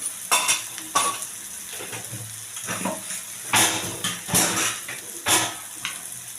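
A spoon stirs chili powder and coriander-cumin powder in a hot pan, giving a sizzling fry broken by sharp scraping and clinking strokes at an uneven pace, close and alone.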